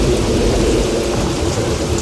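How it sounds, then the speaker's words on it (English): Simulated thunderstorm on a Universal Studios tram tour, with sprinklers in the trees spraying water as rain: a steady, loud wash of falling water and low rumbling throughout, no voices. "That's how we create our stormy scenes. We locate sprinklers in the trees."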